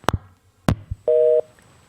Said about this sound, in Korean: 지금 전화가 잠시 끊겼습니다